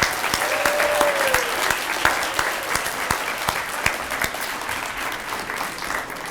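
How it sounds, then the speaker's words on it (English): Audience applause at the Cox Hero awards ceremony in Escambia honoring student heroes, steady and sustained clapping filling the room throughout, with a brief whistle near the start. "Let's give all these wonderful heroes another round of applause."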